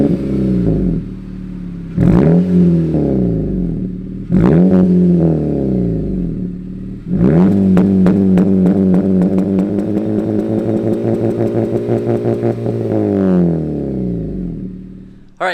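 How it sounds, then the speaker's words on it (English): A 9th-generation Honda Civic with a full 3-inch downpipe and exhaust, heard from outside, blipped a couple of times and then held against the rev limiter, producing a loud, rapid stuttering bark before dropping off. "Here's a sound clip from outside the car, giving a couple revs and bouncing the car off the rev limiter."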